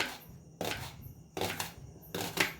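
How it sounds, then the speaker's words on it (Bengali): Onions being finely chopped with a knife for Bengali pantabhat and peyaji, in three or four distinct bursts of rapid cutting strokes, close and alone. "তাই পেঁয়াজটা ভালো করে কেটে নেব"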